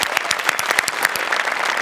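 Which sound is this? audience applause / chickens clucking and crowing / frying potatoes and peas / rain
audience applause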